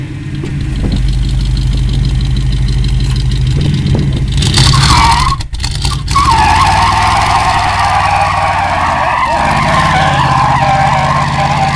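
A car spins its tires in a smoky burnout on a lot, its engine roaring loud and close under a continuous screeching skid that briefly cuts out and then resumes at a higher pitch.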